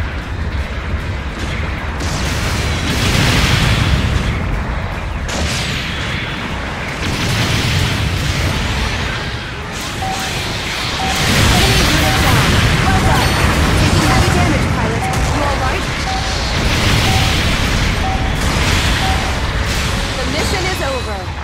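Explosions from long-range supporting fire in the Gundam Battle Operation 2 video game, a dense, continuous barrage of booms and crashes under game voices and mech battle noise throughout.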